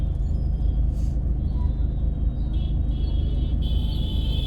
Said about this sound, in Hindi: मैं वो देख रही हूँ कि ट्रैफिक बहुत ज़्यादा है